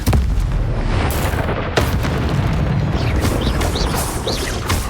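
Confringo explosive spells cast in Hogwarts Legacy, loud booming blasts with sharp cracks near the start and middle, followed by rumbling debris and fiery crackle through the rest.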